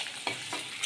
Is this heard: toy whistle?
no